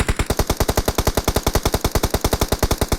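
Rapid automatic gunfire in the mobile battle-royale game BGMI, a loud, evenly spaced burst of about two dozen shots fired in quick succession with no pause.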